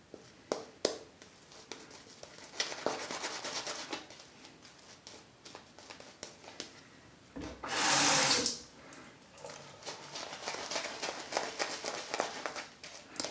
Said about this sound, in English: as I'm adding more water here